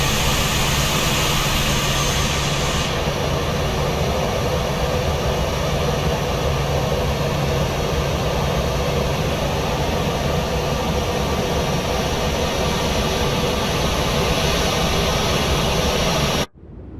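The jet engines of a PMDG 737-800 in Microsoft Flight Simulator 2024 give a loud, steady roar and whine that holds unbroken until a sudden cut at the end.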